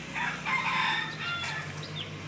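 A chicken crows at a Lahu village pig farm in Thailand, a drawn-out close call rising and falling, followed by softer clucks and faint farmyard bird sounds.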